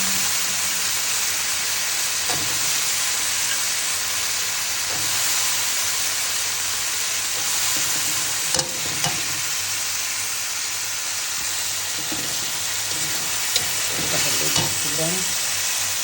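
Jackfruit seeds frying in a pan, a steady broad sizzle running throughout with occasional louder stirring scrapes and clinks, close and continuous.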